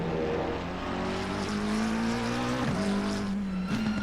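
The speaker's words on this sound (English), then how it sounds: "Oh wow, the McLaren sounds beautiful." McLaren race car engine in a racing video game, a high steady engine whine with clear harmonic tones rising and dipping through gear shifts, tire noise underneath, up close.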